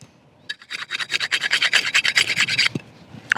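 Rubbing corrosion off the blade of an EJ Snyder Mountain Predator Bowie knife: a quick series of rhythmic, scratchy rubbing strokes, close and fairly loud, then a brief pause and a final scrape.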